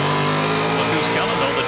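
NASCAR Pinty's Series stock cars roar past at the Bumper to Bumper 300 race near Vallée-Jonction, Quebec, a loud continuous engine drone with pitch sweeps as cars go by, under a commentator's voice.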